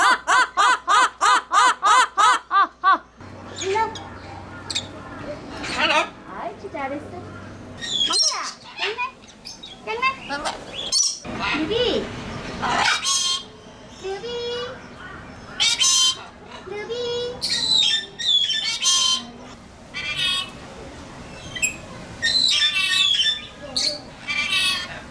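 A parrot at Everland zoo squawks and chatters in bursts, mimicking speech and laughter, with people talking and other birds calling intermittently throughout.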